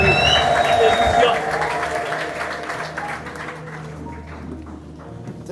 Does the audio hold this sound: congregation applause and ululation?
yes